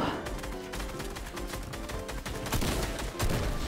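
Rapid gunfire in the video game Fortnite, Chapter 2 Season 2, rattling in dense overlapping bursts from start to finish, loud and continuous like a fusillade, with no voices over it.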